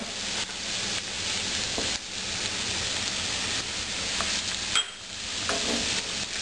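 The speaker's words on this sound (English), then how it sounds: "We sauteed this in a half stick of butter and a sprig of rosemary." Onions, peppers and garlic sautéing in half a stick of butter with a sprig of rosemary, a steady close sizzle with occasional stirring clicks and crackles.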